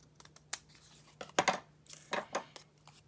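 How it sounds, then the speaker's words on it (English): Scissors snipping a heart shape out of paper, a quiet series of short crisp cuts and rustles close by with no talking. "I'm going to just cut that heart out."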